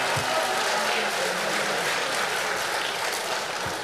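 A theatre audience at a Deyunshe crosstalk comedy show bursts into dense, sustained applause that fills the whole stretch at an even level.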